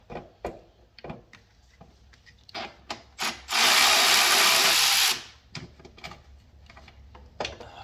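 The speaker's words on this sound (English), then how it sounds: "now I have this automatic ratchet" Electric automatic ratchet spinning valve cover bolts on a 7.3L Powerstroke diesel engine, heard as one loud steady whirring run of about two seconds, surrounded by scattered clicks and knocks of tool handling nearby.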